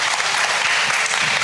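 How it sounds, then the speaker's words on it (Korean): Loud, dense applause from the audience at an international student art competition ceremony, continuous clapping throughout. "다시 한번 큰 박수 부탁드리겠습니다."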